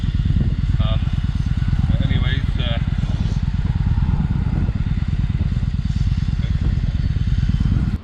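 A 2012 Victory Highball motorcycle rumbles steadily while being ridden, a loud close engine drone with wind and some clatter, and a voice talks over it.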